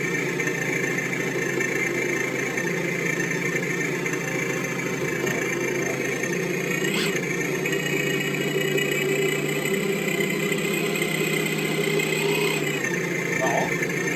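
An electronic engine sound generator fitted to an Absima Sherpa RC car produces a steady, loud idling engine drone with a low hum and bright harmonic overtones, holding constant for the whole stretch with slight pitch shifts.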